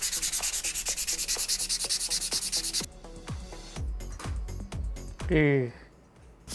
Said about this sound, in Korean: 표면 정리를 위해서 종이사포를 준비했습니다